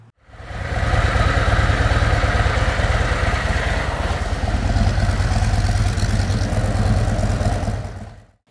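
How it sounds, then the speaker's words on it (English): A 2026 Harley-Davidson Street Glide with an upgraded exhaust idles close by, a steady, loud, deep engine rumble that holds evenly for about eight seconds before cutting off. "you guys got to hear what the exhaust sounds like"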